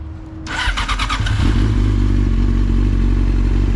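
Warm 20-year-old motorcycle engine starting: a brief starter whir, then the engine catching and settling into a loud, close, steady idle.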